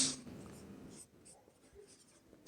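Chalk or marker scratches across a board during a primary school maths lesson, a few short close strokes and taps, faint and dry, with no talking over them.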